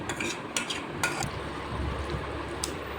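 A spoon stirs fried onions, dried chillies, curry leaves and turmeric together in a pot, giving soft scraping swirls broken by a few light metallic clinks against the pan, close and fairly quiet.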